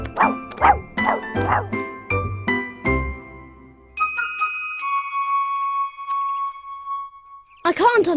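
A cartoon dog barks in a run of bright, yappy barks. A jingling chime follows, and a voice speaks briefly at the end.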